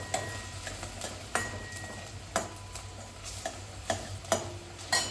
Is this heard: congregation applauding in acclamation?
no